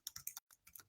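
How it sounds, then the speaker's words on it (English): Quick, close taps on a computer keyboard come in two short bursts split by a brief pause, soft and crisp with no voice. "I'm typing while we're live."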